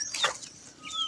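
Chickens in a coop on a hillside farm give a short burst of clucking with a sharp squawk and some wing flapping, close and fairly faint, with no talk.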